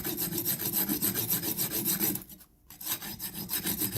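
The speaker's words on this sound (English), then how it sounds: "I got a coarser file. This is a round rat tail file." A coarse round rat-tail file rasps against a steel horseshoe in steady, rhythmic back-and-forth strokes, close and loud, with a brief pause near the middle before the filing resumes.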